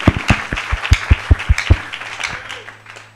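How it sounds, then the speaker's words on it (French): Loud rhythmic clapping from a church congregation, sharp claps in a steady beat that slow and fade over a low sustained hum of an organ or keyboard. "Applaudissons très fort."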